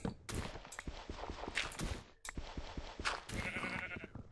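Sheep in Minecraft bleating loudly several times in quick succession, close-up game sounds with short gaps between the calls.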